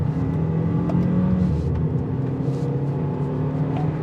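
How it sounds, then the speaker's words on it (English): A 2025 Kia K4 GT-Line petrol engine in sport mode revs hard as the car accelerates up through the gears around a bend onto a freeway, a steady loud raspy drone heard from inside the cabin. "the motor's got a lovely little purr when you're not on it. It's raspy when you jump on the throttle."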